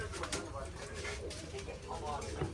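Pigeons returning from flight coo softly beneath continuous nearby conversation, with a steady background hum throughout.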